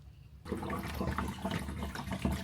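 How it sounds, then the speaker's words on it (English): Water rushes steadily into an RV's fresh water line after the supply is turned on, a continuous close hiss and gurgle starting abruptly and running unbroken to the end. "Okay, so water is now feeding in, and now let's go check for leaks."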